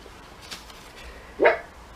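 A small dog gives one short, sharp bark close by in a quiet indoor room, preceded by a faint softer yip.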